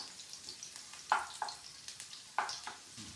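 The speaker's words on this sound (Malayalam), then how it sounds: "പച്ചമുളക് നന്നായിട്ടൊന്ന് മൂത്ത് വരണം അതിന് വേണ്ടിയിട്ടാണ് നമ്മളിപ്പോൾ ഈ എണ്ണയിലിട്ട് തന്നെ വറുത്തെടുക്കുന്നത്" Green chillies fry in hot oil for a bitter gourd kichadi, giving a soft, steady sizzle broken by a few sharper pops and spoon scrapes close by.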